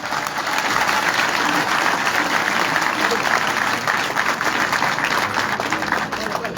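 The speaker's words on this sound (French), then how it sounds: "Je voudrais des applaudissements convaincus." Sustained audience applause at a gathering in Dahra, dense and steady, a crowd clapping continuously for nearly seven seconds.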